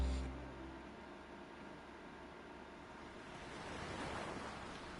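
Ocean waves in the video game World End Syndrome, a steady broadband wash of surf with gentle swells, fairly faint and continuous, no voices.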